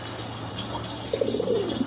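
Soft cooing from a long-legged pigeon on a farm, a few low murmuring coos in the second half over a steady background hum.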